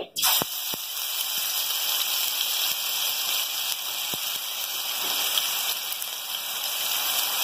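Ginger garlic paste drops into hot oil and bursts into a loud, close, continuous sizzle and spatter that holds steady throughout, with a couple of faint clicks and no voices.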